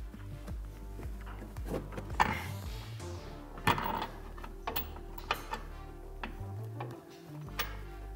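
Ratchet working an upper shock bolt with new Rough Country shocks on a Jeep Gladiator front leveling kit install, giving repeated close mechanical clicks and ticks over a low background hum.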